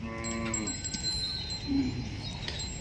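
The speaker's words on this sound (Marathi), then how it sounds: "जातीवंत वळू बैल, जातीवंत खिल्लार गाई तुम्हाला या बाजारामध्ये पाहायला भेटत असतात" Khillar cattle at a busy livestock market fair at Pandharpur, one cow lowing in a clear drawn-out moo near the start, then a hum of crowd murmur with faint animal sounds and a brief bell-like ring.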